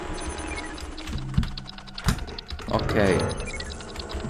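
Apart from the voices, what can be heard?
loud computer keyboard typing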